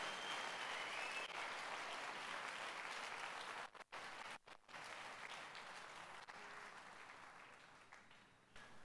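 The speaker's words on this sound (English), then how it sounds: "Clap your hands for the Lord," A church congregation claps hands in a sustained, dense burst of applause that fills the room, briefly dipping twice before continuing steadily, with no distinct voices over it.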